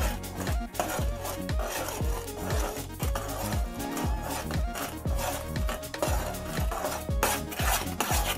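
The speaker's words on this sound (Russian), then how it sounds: "И теперь, помешивая, добавим потихонечку туда это растопленное масло" A utensil scrapes and stirs rhythmically around a bowl as melted butter is worked into whipped egg foam, steady repeated strokes roughly twice a second, close and fairly quiet, without talk.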